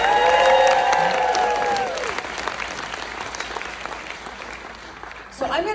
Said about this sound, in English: So a big round of applause for David Schmidt,